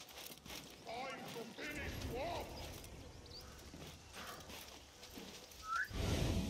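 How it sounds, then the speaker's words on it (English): Character whistling in the video game Assassin's Creed Mirage: a few short rising whistle notes at moderate distance, mixed with faint footsteps or hoof clops and background game ambience, with a brief louder burst at the end. "Didn't mean to whistle."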